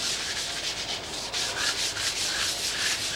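A scrubbing brush works hard across a floor in a continuous, close, rasping back-and-forth with a quick stroke rhythm and no voices.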